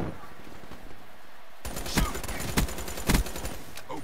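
Gunfire shot through a wall in Black Ops 3, a burst of loud, sharp rapid shots starting abruptly after a quieter opening, with several harder cracking peaks spaced through the burst.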